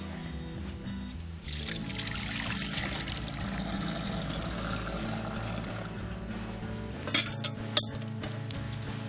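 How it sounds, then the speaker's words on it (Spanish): Mushroom stems being drained in a kitchen, water pouring and trickling through a strainer with light clinks of metal and dishes, then a few sharp knocks near the end, no talk. "la tripa ya la tengo, la voy a escurrir"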